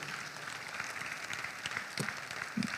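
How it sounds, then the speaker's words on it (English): Audience applause at a regional stakeholder forum, a quiet, steady patter of many hands clapping at a distance, with a few sharper claps standing out. "Please, another round of applause for Dr. Chioke."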